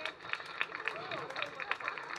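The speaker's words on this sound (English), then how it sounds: "This one needs a double clap." An audience at a photographer's calendar launch in Mumbai gives steady, moderately distant applause, with a dense wash of clapping and sharper individual claps standing out.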